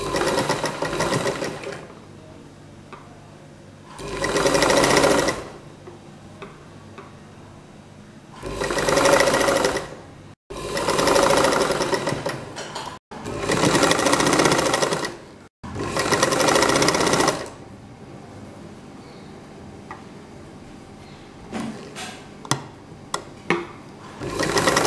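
A sewing machine stitches two layers of cloth together for a double-layer face mask, running in five loud, close bursts of a few seconds each with quiet pauses between, then only faint handling clicks toward the end.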